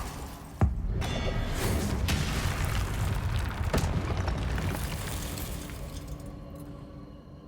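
A Confringo spell explosion in a Harry Potter video game: a sharp, loud blast, then a long rumbling, crackling tail with a second crack partway through, fading out slowly.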